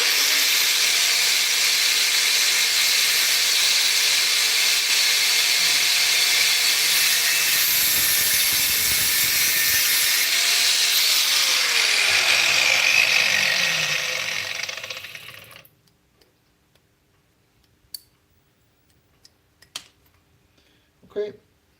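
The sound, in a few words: cutting wire for an oil gun pilot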